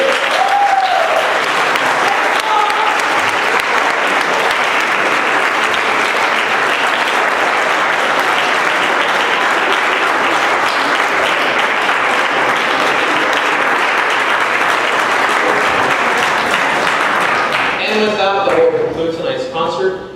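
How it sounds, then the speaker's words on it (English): Audience at a brass camp concert breaks into sustained, loud applause that fills the room steadily, then tapers off near the end as a voice begins. "give your parents a round of applause"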